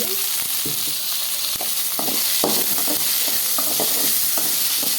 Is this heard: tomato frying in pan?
yes